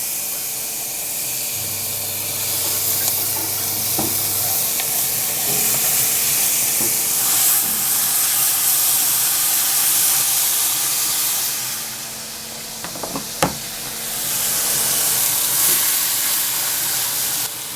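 Holy Trinity vegetables sautéing in a tablespoon of butter on a Louisiana Grills LG800 Founder Legacy, a loud steady hiss of frying that swells and briefly dips, with a few faint clinks.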